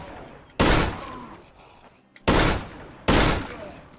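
Three heavy gunshots in the State of Decay video game, loud booming blasts with decaying tails, the first alone and the last two closer together in quick succession.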